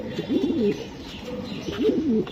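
Racing pigeons coo twice in soft, rolling, throaty phrases, close by, with faint background noise between the calls.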